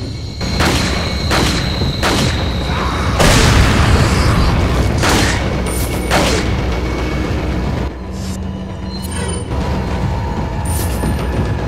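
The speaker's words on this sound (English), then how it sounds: "Alright, grenade time again." Grenade blasts boom in Resident Evil 4, a dense, loud run of heavy explosions and crackling bursts that rumble on without pause for the whole stretch.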